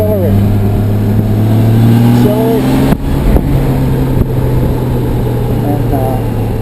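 A motorcycle accelerating out of a turn, its engine note climbing in a steady drone close by, with a brief bump midway and continuous wind noise.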